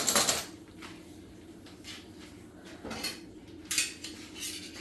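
A set of six metal spoons being handled, sharp bright clinks and rattles in a few separate bursts with quiet gaps between, close by and without talk.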